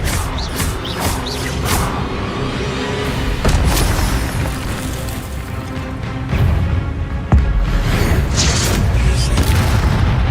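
Fire spell casting in the video game Hogwarts Legacy, heavy booming blasts and crackling bursts erupting repeatedly over a dense rumbling game soundscape, loud and close throughout.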